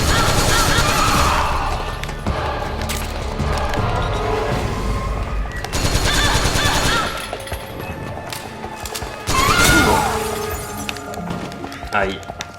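Gunfire in Metal Gear Solid 4 comes in loud, repeated bursts with sharp impacts and crashes, mixed with game voices and player talk.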